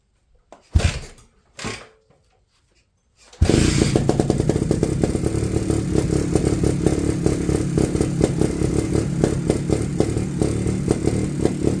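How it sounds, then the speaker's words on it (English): A 2000 GasGas TXT280 trials dirtbike, on reserve fuel with the choke on, takes a couple of kick attempts, then fires and settles into a loud, steady, rapid two-stroke idle close by. "let's try and start this thing up"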